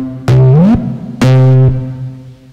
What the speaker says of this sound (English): If I want to make it have a smooth transition and basically slide to the next note